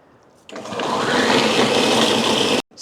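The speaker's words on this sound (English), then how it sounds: "pop the blender on, get this processed" Chili peppers are blended for homemade sriracha and Caribbean hot sauce: after a short quiet start, a blender whirs up into a loud, steady, high whine, then cuts off abruptly near the end.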